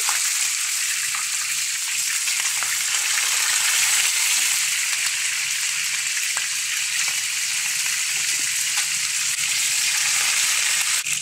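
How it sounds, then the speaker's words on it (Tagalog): Steady, loud sizzling and crackling of chicken frying in hot oil, continuous and close, with no voices. "Prito na natin ang ating chicken."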